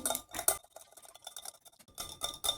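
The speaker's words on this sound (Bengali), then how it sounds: "টক দইটাকে খুব ভালো করে ফেটিয়ে নিচ্ছি।" Sour yogurt (curd) whisked in a bowl for a fruit cake batter, giving bursts of quick clinking and scraping strokes separated by a quieter pause.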